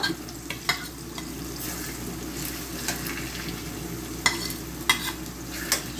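Onion, garlic and chili paste fry in a pan with a steady close sizzle, while a spoon scrapes and stirs through it in scattered clicks and knocks.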